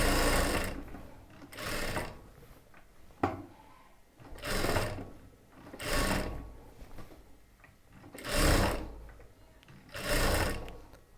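A sewing machine runs in about six short bursts of stitching, double-stitching the sleeve and shoulder seams of a chudidar top, each whirring run separated by brief pauses.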